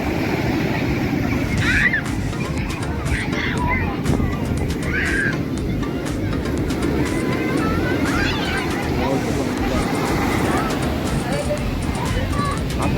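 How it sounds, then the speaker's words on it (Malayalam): Ocean waves breaking on a crowded beach on Eid day, a continuous low surf wash with wind noise, while people talk and chatter in the background. "ആ തിരമാല വരുന്നൊക്കെ ആ നല്ല രസം കാണാൻ."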